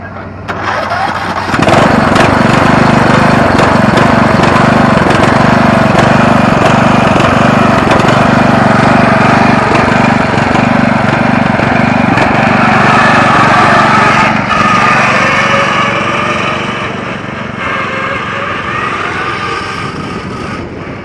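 The Zombie machine's engine cranks over and catches, then runs loudly and steadily at close range with a rough, buzzing mower-like drone that eases slightly toward the end.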